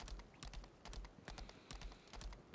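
Quick, rhythmic clip-clop of horse hooves while riding in the video game Lost Ark, a steady galloping patter at close range with no talk over it.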